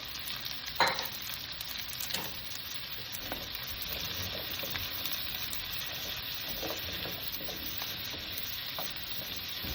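Chicken stirred in a hot pan with garlic and onions for chop suey, frying with a steady loud sizzle and repeated scraping stirs, one sharper knock near the start, no voices.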